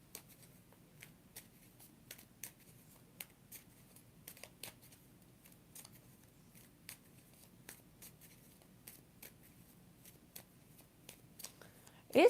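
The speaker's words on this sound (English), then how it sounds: "I'll do one more shuffle." Soft, scattered tarot card-shuffling clicks and riffles tap irregularly in a quiet room, ending with a brief louder rustle.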